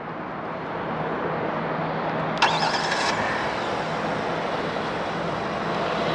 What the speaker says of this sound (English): press and hold the remote start button on the key fob